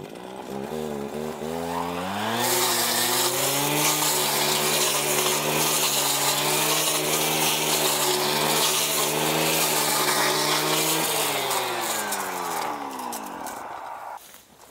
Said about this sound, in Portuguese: Vou mostrar com a roçadeira o que acontece.